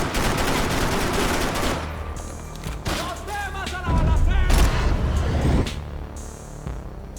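Rapid submachine gun bursts fire in the video game Max Payne 3, dense crackling volleys layered with in-game chaos and brief louder bursts, close and loud throughout.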